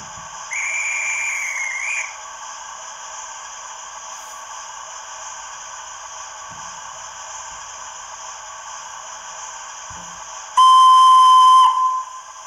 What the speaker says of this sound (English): We should have a guard's whistle in response.